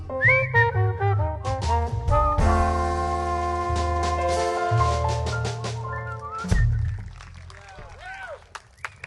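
Someone whistles a melody over a jazz quintet backing at a live show, the pitch sliding between held notes, with bright bursts near the end.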